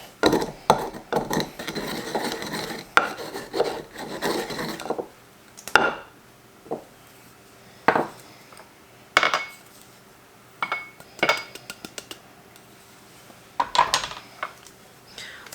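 Cardamom seeds are ground in a mortar and pestle: sharp knocking and scraping strikes come in irregular bursts, dense at first, then sparser with pauses between clusters.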